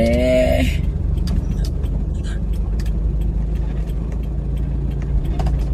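A car turns around on a campsite road at Rai Phu Saen Ngam in Phrae, its engine a steady low rumble throughout, with a brief voice at the start.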